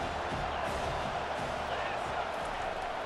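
Steady stadium crowd roar from College Football 25 during Vanderbilt vs Tennessee, a dense, continuous wash of massed voices with no clear peaks over about three seconds.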